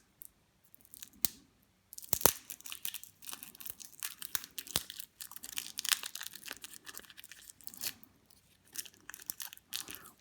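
Plastic shrink-wrap being torn and crinkled off a board game box, a run of irregular close rips, crackles and crumples with short pauses between bursts, no talk.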